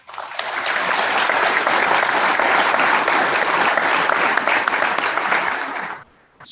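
A dense, sustained round of applause from a crowd of residents at a Memorial Day ceremony, steady and full for about six seconds before cutting off abruptly.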